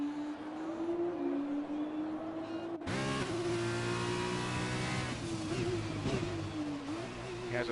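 Race car in a racing video game, a Russian GP round, driving on wet tyres: a steady engine drone rising and falling in pitch, with a sharp shift partway through and then a louder, brighter engine note, no talk.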